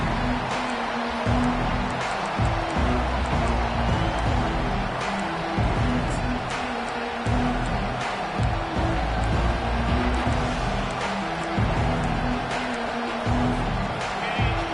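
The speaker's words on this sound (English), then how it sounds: "this home crowd is fired up and ready to make a difference today" A home crowd roars at an LSU college football game against Florida, a dense, continuous stadium din holding steady and loud throughout, with brief sharper bursts and possible faint voices rising out of the wash of noise.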